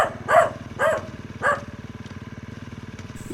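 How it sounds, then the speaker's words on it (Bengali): A dog barks three times in the distance on a village road at night, spaced out over a steady low idling engine drone that continues after the barks stop. "আর দূরে কুকুরের হাঁক।"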